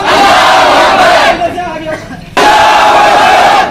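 A protest crowd chants the takbir slogan in loud unison, a dense roaring shout that breaks off briefly into a pause with scattered noise, then surges back up at full force.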